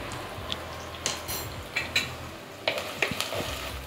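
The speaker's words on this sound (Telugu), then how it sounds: "వేడెక్కింది కాబట్టి ఉల్లిపాయలు వేసేస్తున్నాను. ఉల్లిపాయలు వేగటానికి కొంచెం ఉప్పు వేస్తున్నా." Sliced onions sizzle in hot oil with a pinch of salt, a soft steady hiss broken by scattered clinks and scrapes of a spoon against the pan, no voices.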